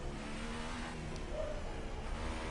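A Formula 1 car in F1 2018 at the French round, entering the pits with a steady engine drone and a faint whir that stays at an even level throughout, with no talk.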